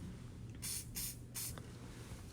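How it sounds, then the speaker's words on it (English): Three short bursts of medium hold hairspray hiss from an aerosol can in quick succession, close and soft over a quiet background, and no one speaks. "you could spray a little bit of medium hold hairspray to just help seal this product in"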